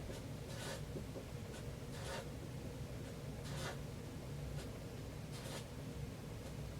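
A pen draws smiley faces on paper in a run of short, scratchy strokes that repeat at an uneven rhythm over a steady low background hum, with no talking.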